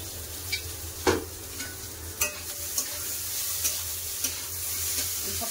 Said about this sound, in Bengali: আর ঢাকা দেবো না, এমনি খুললা একটু নেড়ে ভেজে নেবো